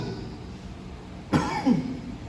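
A preacher giving a Christian sermon coughs once sharply and close, then follows with a rougher second cough, after a stretch of quiet room tone.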